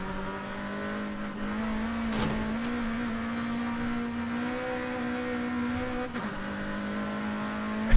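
A car's engine drones steadily in Forza Horizon 5, a constant mid-pitched motor tone that rises slightly and dips briefly near the end, with no voices.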